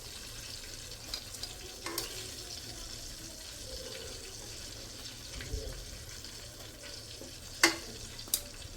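Potato chips fry in hot oil, a faint steady bubbling hiss with a couple of brief sharp clinks near the end.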